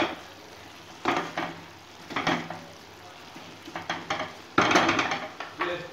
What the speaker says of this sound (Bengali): জলটা থাকতে থাকতে চিংড়ি মাছগুলো দিয়ে দিতে হবে। দিয়ে এবার একটু নাড়তে হবে।